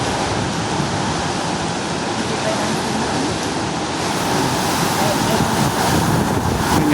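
Super typhoon winds roar against a microphone with crashing waves underneath, a loud, continuous wash of noise without a break.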